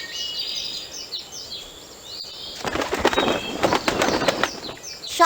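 Small birds flutter and beat their wings in a quick, irregular burst of flapping close by, with soft chirps and twittering above it, the flurry loudest toward the end.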